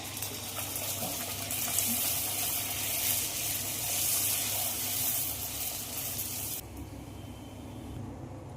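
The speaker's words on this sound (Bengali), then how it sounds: "নান ভাজার জন্য কড়াইতে দিয়ে দিলাম" Naan frying in white oil in a wok (kadai) on a gas flame gives a loud, steady, close hiss that drops abruptly to a quieter level near the end.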